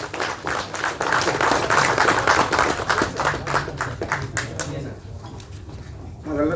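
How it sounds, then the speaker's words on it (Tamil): Applause from an audience at a Tamil film industry event as a businessman is called to the stage, dense clapping sustained for several seconds and thinning toward the end, with voices murmuring underneath. "நல்ல ஒரு கைத்தட்டலோட."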